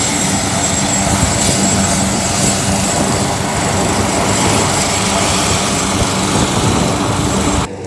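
On a runway, an Ornge air ambulance helicopter keeps its main rotor turning at full speed, producing a loud, close, steady roar of engine and rotor noise that cuts off right at the end.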